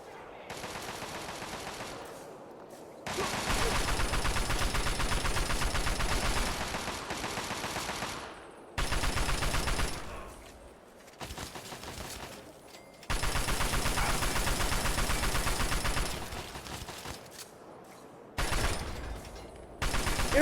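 Bursts of rapid automatic gunfire in Fallout 3 as turrets are shot at, long loud volleys broken by short silent gaps.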